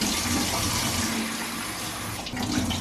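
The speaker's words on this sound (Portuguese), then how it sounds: "lava a ameixa dentro, Maria" Tap water runs steadily into a sink while prunes are rinsed for a coconut manjar dessert, a continuous close splashing hiss with no talk over it.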